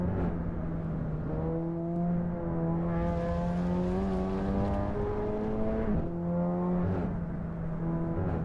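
A road car engine in Assetto Corsa Evo drones with a muffled, sound-deadened tone, its pitch climbing steadily through the gears with brief dips at shifts, alone and close.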